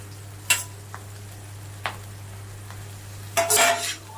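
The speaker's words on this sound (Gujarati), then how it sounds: "અને હવે એને મિક્સ કરી લઈએ." A spoon stirs and mixes dhokla in a pan with a few scattered scrapes and clinks, including a louder cluster near the end, over a steady low hum.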